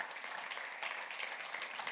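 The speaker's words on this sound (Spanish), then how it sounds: "Le da ese aplauso fuerte, hijas de Dios" Applause from a church congregation during a sermon, a steady, dense wash of many hands clapping that fills the room evenly without pause.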